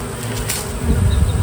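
Dense buzzing of honey bees around an opened double-deep hive during beekeeping, a close, loud swarm drone that swells in the second half of the brief moment.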